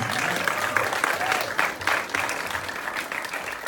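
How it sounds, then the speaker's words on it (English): An audience at a film festival post-screening discussion applauds the filmmakers, steady clapping from a modest crowd in a hall lasting nearly four seconds, alone without talk. "let's give a round of applause for our filmmakers"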